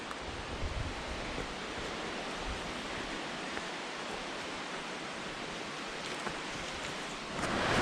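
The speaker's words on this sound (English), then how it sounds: "this is a pretty nice waterfall, I must say" A waterfall near the Arethusa Falls trail pours in a steady, dense broadband rush, loud and close, with no voices.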